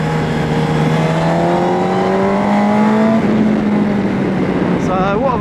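A 2004 Yamaha R1 superbike engine held in second gear, loud and close, its pitch rising steadily and then easing off, with a continuous roar throughout and a brief voice near the end.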